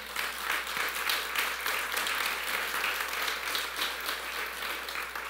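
Church congregation applauding in a steady, dense round of clapping that holds at full strength for the whole five seconds, with no voices rising above it.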